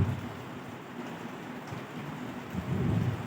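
Rain falls outside during an inaugural session of a teachers' program, a steady broadband rush with low rumbling swells, loud and continuous with no talk over it.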